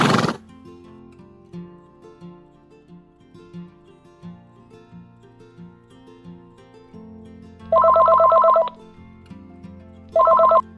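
A horse in the Star Stable Online video game whinnies in two short, loud bursts over soft background game music, with no talking.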